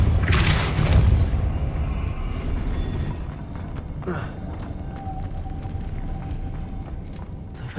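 Depulso spell cast in Hogwarts Legacy, opening with a heavy whooshing boom and burst that settles into a low rumbling ambience with faint magical shimmer.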